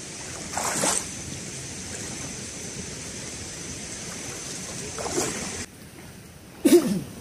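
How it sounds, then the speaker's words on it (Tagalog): A boat cruises on a river near Ambon Ambon Falls in Panguil, Laguna, giving a steady wash of water and wind with a few louder splashes breaking through. "River cruising muna kami."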